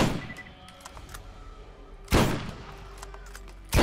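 Two loud, sharp sniper rifle blasts in the Borderlands video game ring out, one midway and one at the end, over a low game ambience.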